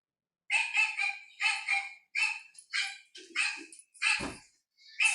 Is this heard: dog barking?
yes